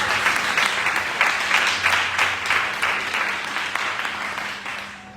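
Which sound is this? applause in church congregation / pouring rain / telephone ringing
applause in church congregation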